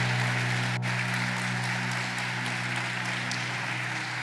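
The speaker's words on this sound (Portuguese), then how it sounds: "Quem crê nessa palavra, aplauda bem forte o Senhor." Catholic church congregation applauding the Lord after a priest's sermon, a dense, even wash of clapping sustained throughout, with one sharp isolated click near the start.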